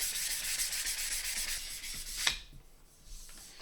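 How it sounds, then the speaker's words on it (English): Rhythmic back-and-forth sanding strokes rasp across a wooden guitar neck, then stop abruptly with a small knock, leaving a few quiet handling sounds. "It's just sanding out the scratches."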